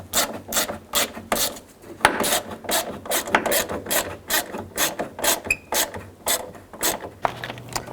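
A ratchet snugs down the mounting nuts on a 2000–06 Chevy Tahoe side mirror, producing a close, rhythmic series of sharp clicking strokes that repeat quickly for the whole stretch.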